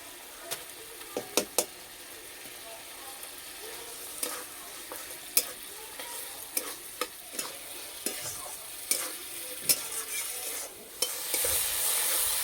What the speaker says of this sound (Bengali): মশলার সঙ্গে ডাল কিছুক্ষণ ভেজে নিয়েছি